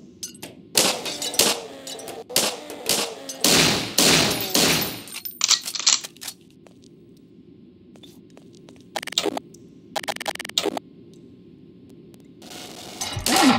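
Gunfire from a weapon in Garry's Mod rings out in loud bursts of rapid shots, then falls silent before a few more short volleys and a final burst, with no voices.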